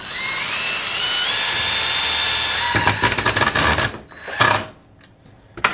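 A power drill drives screws into wooden supports for a homemade roller cotton gin, with a long steady whine followed by short bursts as the screw seats, then a stop; close and loud, no talking.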